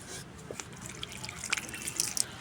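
Water poured onto vermicompost made with green manure gives a faint, scattered patter of drips and trickles, soft and close, with no voices.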